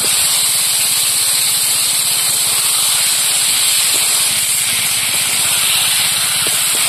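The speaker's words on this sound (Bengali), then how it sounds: "এবার ভেজে রাখা আলুগুলো দিয়ে দেবো।" Fried potatoes hit sizzling, oil-released spice paste in a pan for a rural-style pangas fish curry, giving a loud, steady broadband frying hiss that holds without a break.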